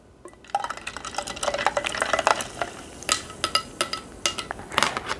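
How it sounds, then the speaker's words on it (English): Spoon stirring coloured liquid in a container for a kids' science experiment, with repeated clinking taps against the sides in an irregular rhythm, close and moderately loud. "Let's stir it a bit."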